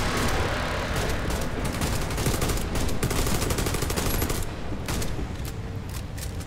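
Dense, continuous gunfire from several players shooting together in a PvE co-op shooter mission set in Pripyat, with rapid overlapping shots and bursts sustained at a steady, loud level throughout.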